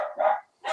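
A single dog gives two short barks, the first a longer burst and the second cut off at the end, close and fairly loud with no talk over it.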